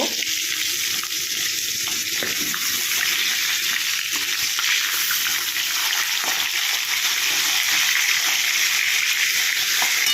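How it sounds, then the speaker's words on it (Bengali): Bhetki fish pieces frying in hot oil until crisp and red, a steady dense sizzle running loud and unbroken throughout with no talking. "মাছগুলো একটু কড়া করে লাল করে ভেজে নেব"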